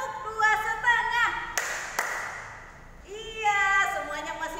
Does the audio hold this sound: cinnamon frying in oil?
no